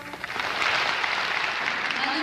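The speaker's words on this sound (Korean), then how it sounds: "박수 대단히 감사합니다" Crowd applauding a singer in a performance hall, a dense, steady wash of clapping throughout with voices faintly mixed in.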